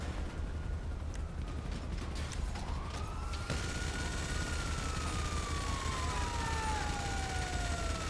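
Ambulance siren in the video game GTA V, a long sweeping wail rising and falling over constant engine and mechanical rumble, preceded by clicking game noises.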